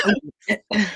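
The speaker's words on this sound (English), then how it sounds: "Oh, it's a cough." A few short, harsh coughs or throat-clearing bursts close up, three quick bursts separated by brief silences.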